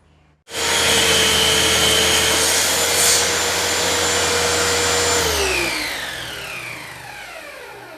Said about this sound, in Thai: เดี๋ยวผม ตัดไปให้ขาดไปเลยนะครับ